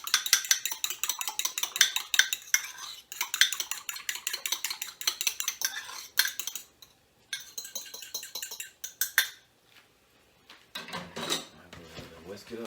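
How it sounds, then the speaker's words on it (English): Quick whisking of a mixture in a small bowl, with rapid metallic clinks and scrapes of utensil against the bowl in busy bursts, pausing briefly before a final stretch of stirring. "Now go ahead, just whisk it up real quick."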